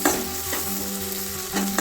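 Ingredients being sautéed and stirred in a hot pan: a steady sizzle runs throughout, with brief scraping strokes of the stirring spoon near the start, middle and end. No talking.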